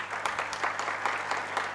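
Steady audience applause, many hands clapping together in a continuous, moderately distant patter with no voices on top.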